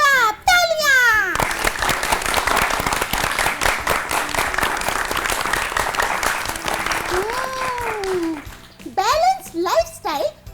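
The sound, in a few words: children applauding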